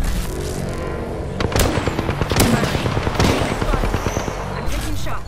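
Rapid gunfire bursts from the video game Apex Legends, sharp cracks and rattling volleys repeating across a busy battle mix, loud and close with game audio layered underneath.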